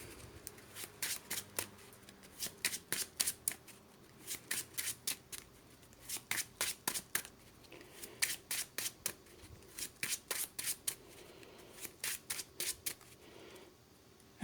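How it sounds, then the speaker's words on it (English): A deck of playing cards is riffle-shuffled over and over during a Marvel Champions card game, crisp fluttering bursts in repeated quick runs, close and fairly quiet, with no talk. "We have to shuffle."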